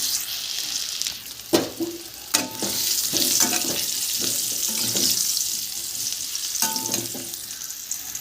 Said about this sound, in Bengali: এবার এই তেলেই আলুগুলোও ভেজে নেব।